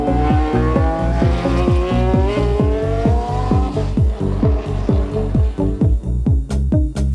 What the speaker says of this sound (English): There's also an ex-Ronnie Peterson March in the race